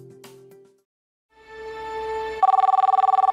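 A telephone rings in the middle of the night, starting with a rising electronic tone and then giving way to a loud, rapidly warbling bell-like trill. A softer tone is heard before it.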